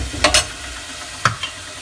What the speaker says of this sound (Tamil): லைட்டாக வதக்கிக்கிறோம்.